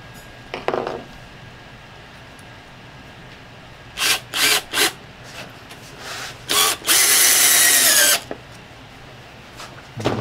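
A power drill drives stainless steel screws into saddle leather, several short whirring bursts followed by one longer run, loud and close with quiet pauses between.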